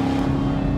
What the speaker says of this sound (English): there's that exhaust, that small block V8, everything. I can hear it.